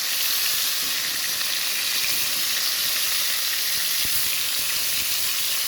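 Chunks of beef searing in a hot pot for stew, producing a loud, unbroken hiss of sizzling fat that holds steady throughout with no voices.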